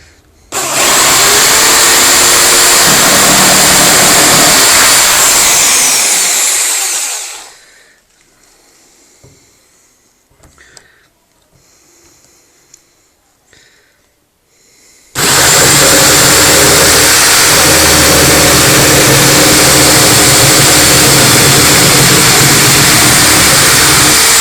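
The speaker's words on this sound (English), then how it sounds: "My jigsaw." Jigsaw cutting the rough pintail outline of a homemade longboard deck, a loud continuous buzzing cut that stops midway, leaving a quiet pause with small handling noises, then roars back at full volume.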